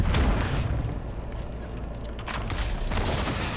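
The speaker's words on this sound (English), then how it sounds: "Stop throwing grenades" Grenade explosions in a video game boom loudly, one at the start and more around the two-to-three-second mark, over a dense rumbling background of battle noise.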